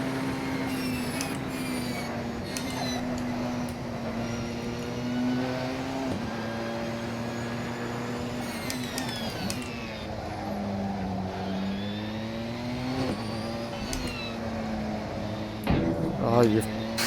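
Porsche 919 Hybrid race car engine in Assetto Corsa at Sebring, a steady high-pitched drone that rises and falls through gear shifts and corners for the whole stretch, loud and close, with someone talking over it.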